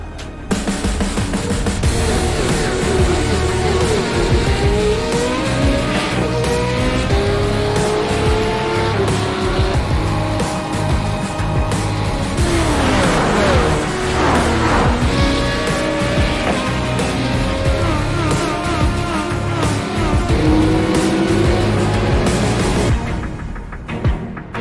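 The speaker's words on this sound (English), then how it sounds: "This is the original eSport racing game. This is iRacing." Race cars in the iRacing sim racing game at Circuit of the Americas, engines screaming and shifting continuously with tire squeal and skidding throughout, loud and steady with no talk.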